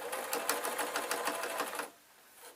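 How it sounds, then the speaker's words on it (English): Close, steady rapid stitching from a sewing machine working through adult kilt fabric runs for nearly two seconds, then cuts off into near silence. "I'm just going to keep on sewing till I come to the end."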